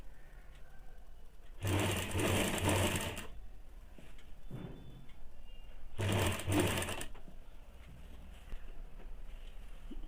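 A sewing machine stitches a strip over piping onto a blouse in two loud, steady bursts of a couple of seconds each, separated by quieter handling noise.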